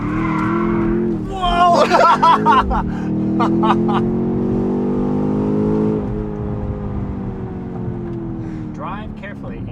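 A BMW X5M with a full Valvetronic Designs exhaust and OEM downpipes does a brake-boost launch, its engine roaring loudly and rising steadily in pitch over several seconds with tire noise close by, while a voice exclaims over it.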